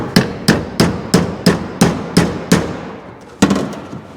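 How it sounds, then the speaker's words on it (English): Hammer smacking a metal trunk gap panel on a car under repair, eight sharp ringing blows at an even rhythm, then a pause and one more strike, loud and close. "It's maybe it just needs a bigger hammer smack."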